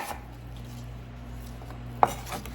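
Apples with peels left on are cut into quarter-inch slices on a board, a quiet stretch followed by a sharp knife tap against the surface near the end, with faint kitchen hum beneath.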